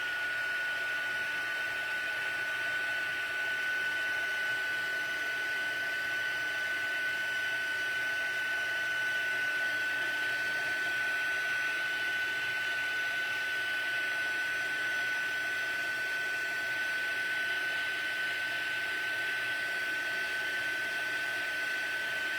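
Heat embossing tool blowing hot air onto craft embossing powder, a steady broadband whoosh with a constant high whine, running continuously at moderate level with no pauses.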